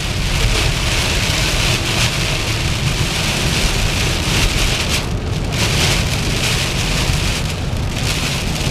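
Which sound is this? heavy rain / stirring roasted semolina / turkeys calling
heavy rain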